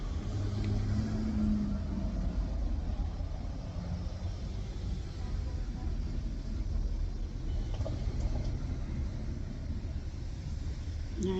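Cars, including a brand new Kia, pass on a residential street outside a house near a funeral home, giving a steady low road rumble and engine drone that swells gently, with no voices.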